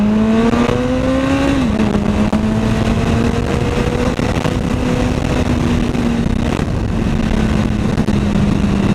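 A Honda CBR 1000RR motorcycle engine roars loudly and steadily up close, its pitch rising briefly as the throttle opens, then holding a sustained revving drone.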